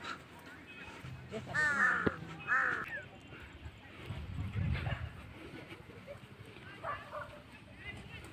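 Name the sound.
crows cawing in a park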